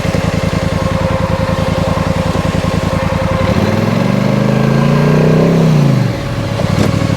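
A Polaris Sportsman 850 Highlifter Edition ATV stuck in thick, peanut-butter-like Texas mud idles with a loud, steady engine drone, then revs up hard for a couple of seconds before dropping back to a low rumble.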